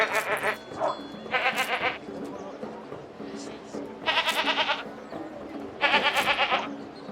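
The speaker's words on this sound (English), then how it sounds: "Singing goats." Goats bleat in the video game Anno 1800, several wavering, tremulous calls in separate bursts, fairly close and loud, with quieter game ambience between them.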